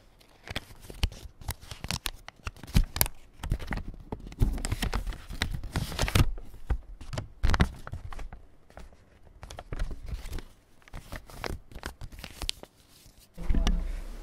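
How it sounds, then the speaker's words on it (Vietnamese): Paper is folded and unfolded in a series of crisp crackles and rustles, close and fairly quiet, irregular bursts with short pauses between them and no voices. "Tiếng gấp mở giấy."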